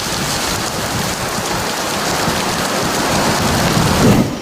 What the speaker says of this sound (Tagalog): bumuhos ang malakas na ulan dito sa Tacloban City